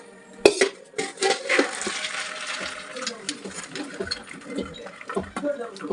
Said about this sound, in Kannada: ಈಗ ಇದನ್ನು ನಾವು ಒಂದು ಪಾತ್ರೆಗೆ ಬಸ್ಕೊಳ್ಳೋಣ